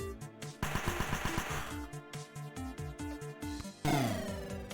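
Video game battle gunfire rattles in rapid bursts, with dense automatic fire and scattered shots and an explosive burst near the end, at a moderate level with no talking.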